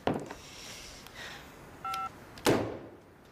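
A telephone being dialed in a quiet room: a few faint key presses, then one clear two-tone keypad beep, and a sharp click or clunk of the handset near the end, with no voices.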